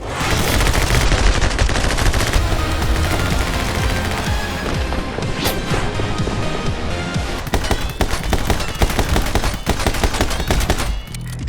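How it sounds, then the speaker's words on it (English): Slowed-down gunfire from the video game My Friend Pedro forms a dense, loud, continuous barrage of meaty booming shots and crackling impacts that runs without a break for the whole stretch. "the gun sounds, I will say, are super meaty and feel super good. The sound of the gun shooting in slow motion"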